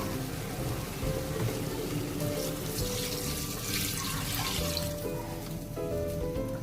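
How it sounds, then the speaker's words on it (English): Water runs and splashes steadily into a pot of cow head stew for several seconds, a continuous close pouring wash with faint kitchen clatter underneath. "So adding more water."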